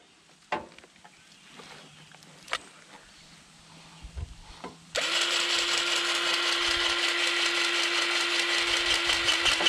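An air-powered grease gun starts up halfway through, running as a loud, steady whine with a constant hum. Before that come a few sharp clicks and knocks in a quiet shop during skid steer track work.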